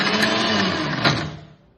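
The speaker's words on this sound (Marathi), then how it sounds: "आणि आपण हे मिक्सरला फिरवायचं" An electric mixer grinder spins a cake batter of jaggery, wheat flour and butter, giving a steady dense whir that holds for over a second, briefly surges, then cuts off and fades.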